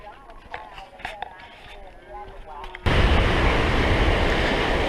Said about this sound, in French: on traverse enfin la Dordy River, la rivière qu'on voyait de là où on était ce matin